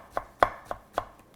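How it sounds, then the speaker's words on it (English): Four crisp knife strokes on a cutting board as oyster mushroom is chopped, evenly spaced and close, with no talking. "we're going to chop this oyster mushroom"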